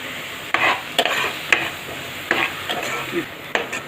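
Ground masala of coriander leaves, cumin and green chilies stirred through spinach lemon rice in a single pot, a spatula scraping in repeated strokes about every half second over a soft sizzle.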